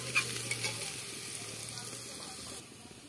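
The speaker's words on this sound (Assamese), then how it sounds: "এইফালে পিঁয়াজটো ৰঙা হৈ গৈছে, পোলাওটোৰ কাৰণে পিঁয়াজটো ৰঙা কৰি আছোঁ।" Onions fry in a pan for pulao, with a steady soft sizzle and a few light stirring clinks. A voice talks faintly in the background.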